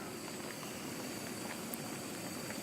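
Rainwater drips steadily off trees after a night thunderstorm at a backcountry cabin, a faint continuous patter of scattered drops with a low background hiss, heard alone without talk.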